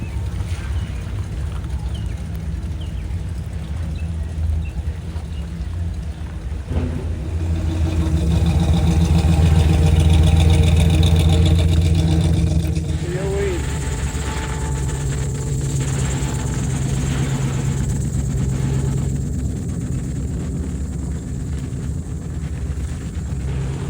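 A four-door 1962 car drives past during a classic-car cruise on the Gulf Coast at Gulfport and Bay St. Louis. Its engine rumble rises over steady traffic and outdoor noise, peaks mid-way, then fades as it moves off.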